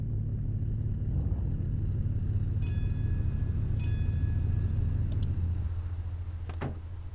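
A car engine rumbles low and steady in the Mon Bazou video game, holding at close range for several seconds with a few brief mechanical squeaks and clicks, then easing slightly near the end.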